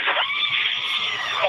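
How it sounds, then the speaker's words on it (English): Screaming from passengers inside a Blue Origin crew capsule during descent, a loud, continuous, high-pitched cry held throughout. "Hear that screaming inside the capsule?"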